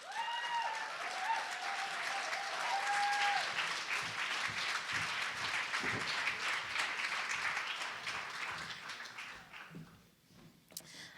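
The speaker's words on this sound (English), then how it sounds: "Can we give a round of applause for Vanessa," A room of people applauds warmly for Vanessa at a community book launch, the clapping steady and full before thinning out to a few scattered claps near the end.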